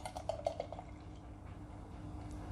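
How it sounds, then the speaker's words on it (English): Beer glugs and splashes into a glass in a few quick bursts, then settles into a soft, steady fizzing pour; a blackcurrant and apple sour. "Slow that pour down. It's starting to get a bit aggressive,"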